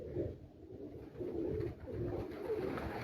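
Racing pigeons on a rooftop give soft, low repeated coos in a gentle rhythm, close by and fairly quiet.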